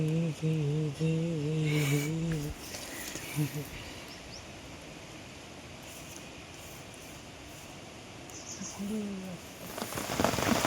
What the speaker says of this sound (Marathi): जबरदस्त पाऊस आलाय मित्रांनो